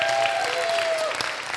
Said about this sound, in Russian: Давайте еще дадим громкие аплодисменты этим мужчинам.